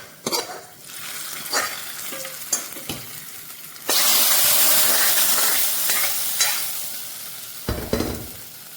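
Hot tempering with curry leaves poured into a simple dal curry: scattered clinks and stirring at first, then a sudden loud hissing sizzle that slowly fades, followed by a clatter of the pan.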